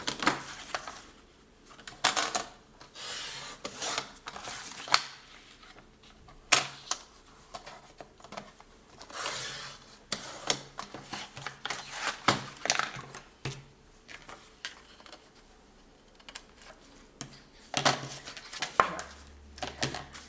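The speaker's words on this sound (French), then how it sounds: "Alors, je vais couper ce carré." Scissors cut a square from paper, giving a string of quiet irregular snips and crisp paper rustles with short pauses between cuts, close and alone.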